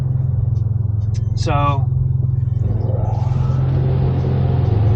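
BMW M3/M4 (G80/G82) with a tune driving in, a loud steady low engine rumble with a throaty drone that swells slightly toward the end, while someone briefly speaks over it.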